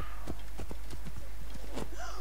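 A horse in Assassin's Creed Origins clip-clops away at a gallop, hoofbeats in a quick irregular rhythm fading slightly, with a brief whinny-like sound near the end over a low steady game hum.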